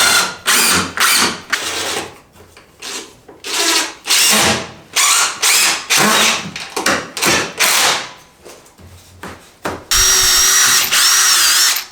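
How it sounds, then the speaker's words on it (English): A power drill drives screws into arch bookshelves being fixed in place, with loud, close bursts of whirring separated by short pauses, repeated about a dozen times, and ending in one longer steady run. "now we're actually going to screw everything in so that it's nice and steady"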